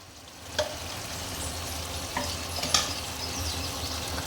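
Chicken masala fries and is stirred in a pan, giving a steady low sizzle broken by a few light scrapes and knocks, with no one speaking.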